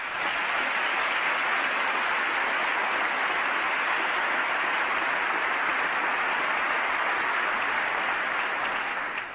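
Members of Congress applauding in the House chamber during the 2002 State of the Union address, a loud, dense, steady wall of clapping that holds throughout.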